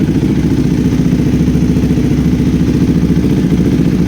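A KTM Adventure 390 motorcycle engine, fitted with an iridium spark plug, idles close by with a steady low, even rumble and a fine mechanical clatter, alone and unchanging throughout.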